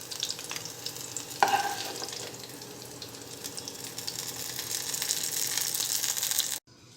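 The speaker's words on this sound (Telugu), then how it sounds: "పచ్చిమిరపకాయలు ఫ్రై అయిన తర్వాత వీటిని పక్కకు తీసుకోవాలి." Green chillies frying in oil in a pan while a brinjal-mint chutney is made. A steady sizzle with stirring, a sharp clink early on, and a crackle that builds before stopping abruptly near the end.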